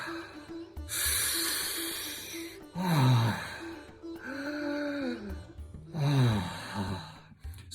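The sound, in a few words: deep breathwork breathing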